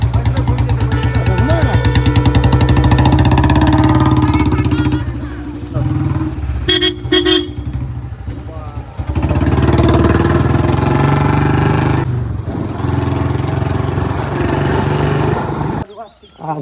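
A motorcycle engine runs loudly close by while its horn sounds in short blasts, with a pause and engine changes midway and people talking over it.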